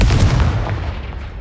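A Confringo fire spell from Hogwarts Legacy bursts as a short explosive blast with a heavy low boom that decays over about a second, loud and alone.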